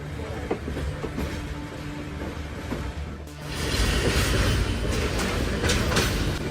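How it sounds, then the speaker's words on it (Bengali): Parabat Express passenger train pulling out of the station, a steady rumble of rolling wheels and carriage clatter that grows louder and rougher partway through, heard close from on board. "ভোর ছয়টা তিরিশ মিনিটে আই মিন রাইট টাইমেই ছেড়ে যাচ্ছে পারাবত এক্সপ্রেস"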